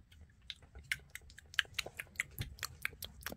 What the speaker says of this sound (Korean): 얼른 먹어봐야지